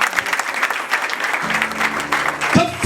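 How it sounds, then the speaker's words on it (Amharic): A church congregation claps loudly in praise, a dense, continuous patter of many hands, with a low sustained tone and a brief voice surfacing near the end. "አጨብጭቡ ለጌታ።"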